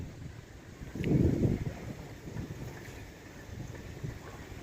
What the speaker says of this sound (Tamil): திடீர் குளிர்ச்சியான காற்று